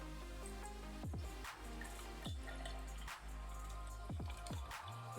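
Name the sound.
pouring GFuel Glitch Mix energy drink into a cup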